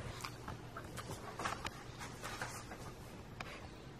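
A dog pants at close range in quick, breathy bursts that run steadily throughout, with faint rustling and no speech.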